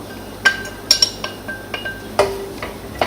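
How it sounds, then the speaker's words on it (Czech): Diced onion goes into a small pot of warm olive oil with a scatter of light clinks and taps of utensil against cookware, close and fairly quiet, with no talking. "Poté vsypeme na kostičky nakrájenou cibulku"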